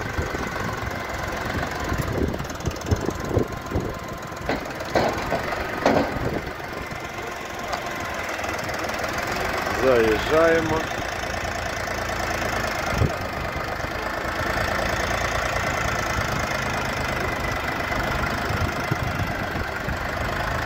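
A Dongfeng DF244G2 four-wheel-drive tractor engine runs steadily throughout, a low rumbling drone with occasional knocks and clatter; someone briefly speaks over it.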